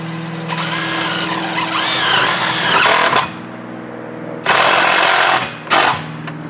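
A metal stitching screw is driven into chimney flashing on metal roofing, with two loud, sustained whirring bursts from a power driver, each lasting a few seconds, separated by a short quieter pause.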